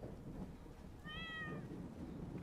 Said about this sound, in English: Cat's loud as hell.